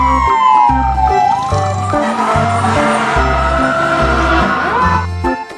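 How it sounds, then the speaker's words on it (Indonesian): A toy fire truck siren wails loudly and continuously, its pitch sweeping up and down over a pulsing electronic beat close by. "Yang ini ada mobil pemadam kebakaran."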